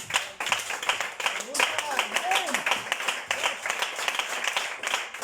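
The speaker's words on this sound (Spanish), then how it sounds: "Dele un aplauso al Señor." A church congregation clapping in a fast, steady rhythm, many hands close and loud throughout, with voices calling out over the applause.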